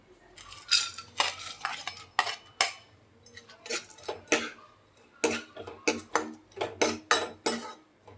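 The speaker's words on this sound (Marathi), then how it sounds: "ड्रायफ्रूट आपण तुपामध्ये तळून घेऊ." Cashews and other dry fruits frying in ghee while a spoon stirs and scrapes the pan in repeated bursts, with quieter gaps and a soft sizzle underneath.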